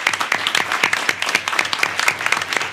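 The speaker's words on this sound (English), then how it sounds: "If we could give them a round of applause," A short burst of dense applause fills a community college district board meeting as team captains stand to be honored, steady, close and loud from start to finish.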